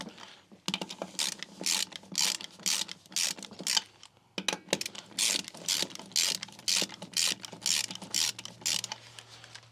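A hand ratchet with a plastic-covered 19mm tire socket works on an aluminum-rimmed golf cart wheel, an EZGO RXV. Rapid close clicking comes in repeated bursts, with a short pause partway through and no talk.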